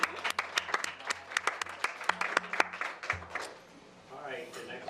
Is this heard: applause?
yes